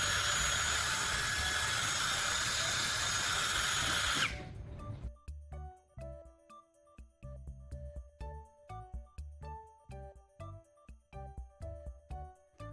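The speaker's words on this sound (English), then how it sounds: "I then use this incredible drill brush and cleaning mixture to tackle dirty tile grime" A drill-powered brush scrubs grime from tile grout in a loud, steady whirring burst for about four seconds, then cuts out, leaving a rhythmic musical backing.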